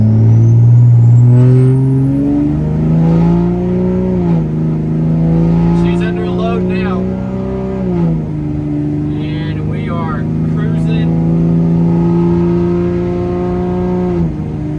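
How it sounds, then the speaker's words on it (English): Truck swapped to a Cummins 6.7 diesel accelerating hard under throttle, its engine note climbing through the gears with a loud, steady drone and a whistling whine heard from inside the cab. "I'm just going to run it a little bit higher RPM and give it a little more throttle using the tap shift"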